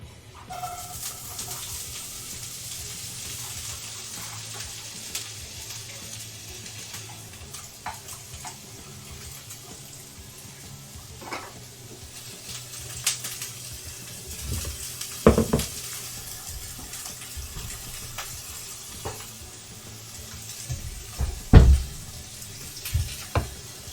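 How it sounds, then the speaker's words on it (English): Food sizzles in a pan, a soft continuous crackle with scattered clinks and knocks of utensils, a few sharper bangs toward the end. "Alright, sizzle time."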